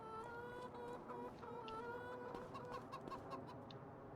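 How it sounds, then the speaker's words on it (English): Chickens cluck and chatter continuously in the Farming Simulator 25 video game on the Zielonka map, a busy, close flock of overlapping calls with no talking. "let's go look at the chickens real quick"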